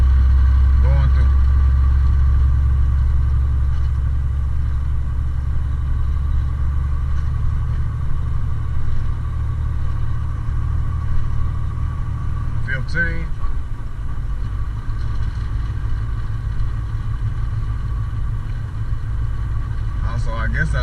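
Truck engine accelerating steadily as the driver float shifts gears without the clutch, a loud, constant low rumble with brief shifts in pitch around each gear change.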